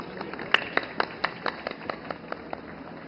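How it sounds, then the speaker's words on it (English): Audience applause welcoming a speaker to the podium at the opening ceremony of the International Film Festival of India, heard as sparse, separate claps at an irregular pace, fairly distant in a large hall. "let's welcome him with a round of applause"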